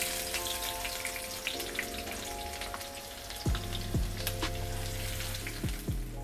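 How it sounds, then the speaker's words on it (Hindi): A medium chopped onion frying in about 100 grams of oil in a kadhai for dhaba-style chole, with a steady close sizzle and crackle, plus a few faint ringing metallic tones in the background. "हमने एक कढ़ाई में 100 ग्राम के करीब ऑयल डाला है, इसमें हमने 1 कटी हुई प्याज है मीडियम साइज़ की"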